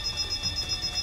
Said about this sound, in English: Amid blaring alarms and blazing red flames